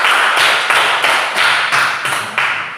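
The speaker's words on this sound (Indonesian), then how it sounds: "Kasih tepuk tangan untuk temannya dulu." Classroom children clapping together for a classmate, a dense steady burst of many hands lasting a few seconds, loud and close with no talking.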